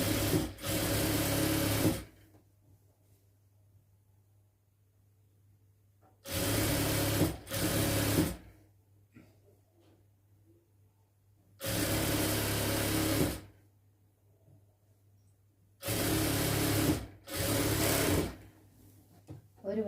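Sewing machine stitching a folded-down churidar hem, running in four close, loud bursts of steady whirring, some split by short pauses, with near silence between them.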